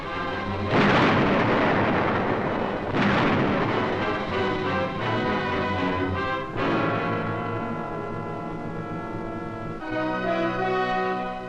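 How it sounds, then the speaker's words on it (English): High-explosive blasts destroy fortress caves on Iwo Jima in 1945: several heavy booming detonations roll out one after another, loud and reverberant, each followed by long rumbling decay, with tonal newsreel music layered over them. "Their fortress caves, saturating the island, are wiped out by high explosive."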